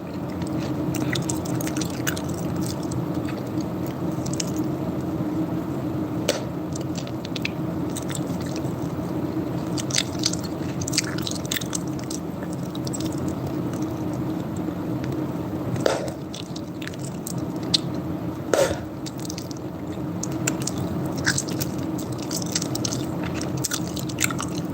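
Gum being chewed close to the mic, soft wet squishing and smacking bites repeating irregularly over a low steady background hum.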